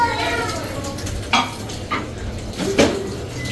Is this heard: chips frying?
yes